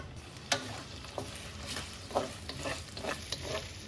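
Okra slices sauté in about a quarter cup of oil in a pan over medium heat. A soft, close sizzle carries irregular spatula clicks and scrapes as the pieces are stirred, with no voices.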